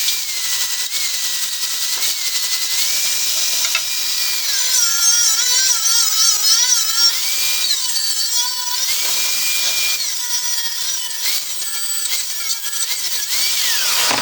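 Angle grinder grinding scrap steel clean on a fire pit welding project, a loud continuous high whine that rises and falls in pitch as the disc bites and eases off the metal, with no talking.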